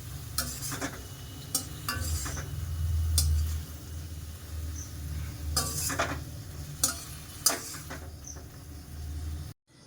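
Honey garlic chicken being mixed with chopped coriander in a pan, with a soft sizzle beneath scattered scraping and clinking strokes of the spatula, close by, ending in abrupt silence.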